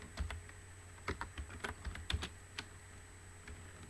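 Soft, irregular computer keyboard keystrokes at close range, scattered clicks over a low steady background hum.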